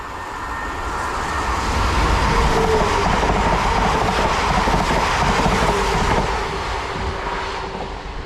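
A train passes through Blakedown's rural railway station: a broad rumbling roar swells over several seconds, holds steady, then eases slightly toward the end, close by and with no talking.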